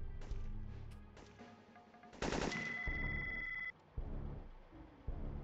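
Sniper and other gunfire in the Syphon Filter game comes as sharp, separated shots amid game sound effects, a loud burst in the middle followed by a sustained electronic tone and more scattered reports.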